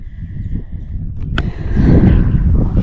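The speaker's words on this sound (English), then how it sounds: "it is windy up here" Low, blustery wind roaring against the microphone at a mountain campsite on the Appalachian Trail, swelling louder toward the end, with a brief sharp click partway through.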